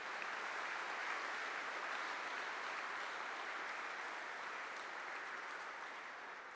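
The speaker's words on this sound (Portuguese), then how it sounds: "Agora pode aplaudir, agora sim, porque todos puderam entender." Sustained applause from a Catholic church audience, an even, dense roar of many hands clapping that stays steady for over six seconds, slightly distant and fading a little toward the end.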